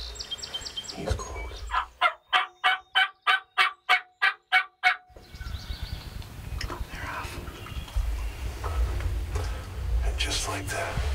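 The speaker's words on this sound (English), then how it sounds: "Turkeys are gobbling a little bit." A wild turkey's fast, rattling gobble of around ten clear pulses rings out nearby in spring in Iowa, followed by rustling ambient noise and faint sounds further off.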